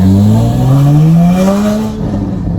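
A 2016 Porsche 981 Cayman GT4 engine revs up loud and close as the car pulls away, its pitch climbing steadily across the gear before easing slightly at the end.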